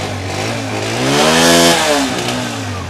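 A restored 2011 Honda 125 motorcycle engine, black and red, idling close by, then revving up and dropping back in one smooth rising and falling sweep, alone without speech.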